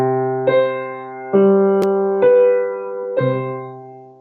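A teacher's improvised counterpoint over a partimento bass line, with sustained keyboard-like tones and four fresh note attacks spaced roughly a second apart, forming a second melody that syncopates against the bass, clear and alone.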